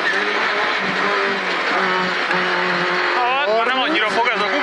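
Rally car on a gravel or tarmac special stage, Árpádtető-Orfű, with tires losing grip: loud, close engine drone from inside the car, rising revs and squealing tires toward the end, a voice talking over it.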